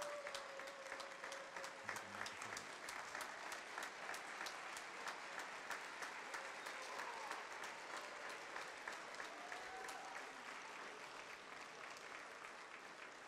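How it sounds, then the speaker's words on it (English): A crowd at a high school event for Gibbs High School students on Dads Take Your Child to School Day gives sustained applause, a thick, continuous patter of many hands with faint cheers and a brief tone sounding through. "Folks, if we could just stand and give them a round of applause"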